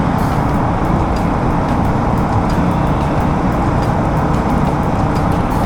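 A motorbike riding through a smoky road tunnel on an Indian ghat route, giving a loud, continuous, reverberant engine and traffic roar that holds steady without talk.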